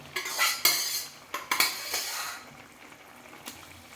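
Cooked lentils being stirred into sundakkai pachadi, Chettinad style: a spoon scrapes and clinks against the pot in a few quick bursts, then quiets to soft mixing, with no voices.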